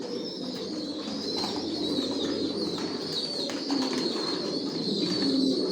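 Pigeons coo continuously in a loft of racing pigeons, soft overlapping low-pitched coos close by, with occasional faint wing flaps and a steady background murmur, no talking.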